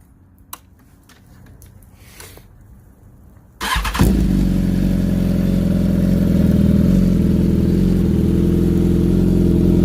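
A 2018 BMW S1000RR engine with a full Akrapovic exhaust system starts abruptly after a few quiet seconds, then settles into a loud, deep, throaty idle with a rumbling exhaust note.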